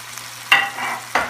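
Fresh ginger and garlic frying in a pan give a short hiss and sizzle, with two brief scrapes of stirring, close and fairly loud over low background hum, with no voices.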